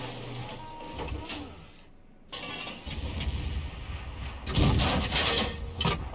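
A GW Tiger (P) self-propelled artillery gun fires in a tank video game, with heavy booming reports and rumbling blasts, a quiet lull, then louder cannon-like bangs near the end amid engine noise.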